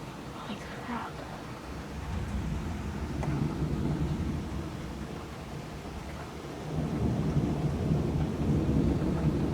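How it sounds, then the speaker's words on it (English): Heavy rain pours steadily through the night with deep rumbles of thunder rolling underneath, a dense continuous wash that grows louder toward the end. "Raining really hard, lightning going off everywhere."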